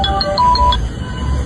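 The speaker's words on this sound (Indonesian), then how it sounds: "Telepon." A telephone ringtone chimes in a short run of repeated bright tones, loud and close, fading into background noise.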